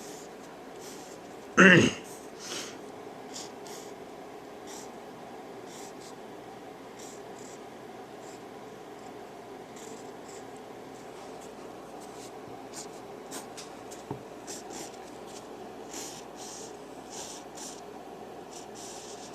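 A mechanical pencil scratches softly over a rough 2H pencil sketch on paper, a faint continuous scratching with light strokes and a sharp tap near the start, under a low hum of room noise.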